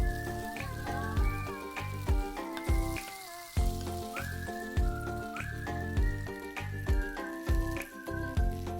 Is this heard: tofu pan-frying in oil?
yes